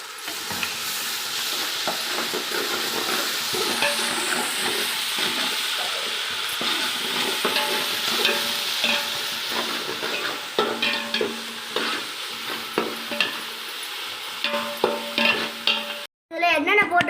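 Onion paste for chicken biryani being stirred and fried in a pan, with a steady sizzle throughout and repeated scraping stirs that grow more distinct in the second half, close and fairly loud, with no talking.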